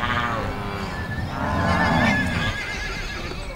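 Horses on the Venezuelan plains of Los Llanos, on cattle ranches where they roam freely, give loud, shrill whinnies near the start and middle, with faint hoof clip-clops and a busy outdoor background.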